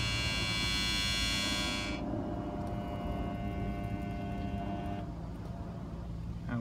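A Haier washing machine motor with a suspected burnt-out winding, running on a variac and then cutting out: a loud whining electric hum with strong tonal harmonics drops away abruptly, leaving a lower steady drone.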